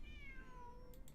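A gray and white cat in Genshin Impact gives one clear, drawn-out meow that glides downward, set over a low background hum and followed by two brief soft taps.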